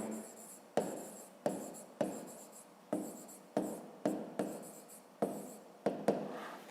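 A pen scratching math figures onto paper up close, about a dozen quick strokes in an uneven rhythm, quiet and with no talking.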